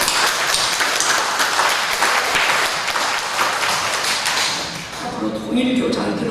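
Church congregation applauding in a Korean worship service, a sustained wash of clapping with voices mixed in that dips briefly near the end.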